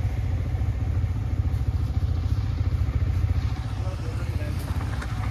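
A motorcycle idling just after a cold start, its low engine thumping in a steady rapid rhythm close by, with voices faintly present in the background.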